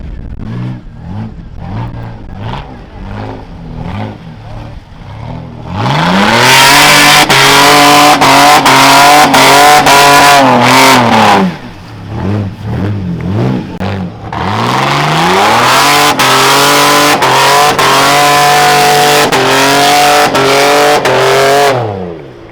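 A Toyota Hilux rally truck races past at a rally, its engine loud and close as it revs hard through gear changes in two long bursts, with a short dip between them.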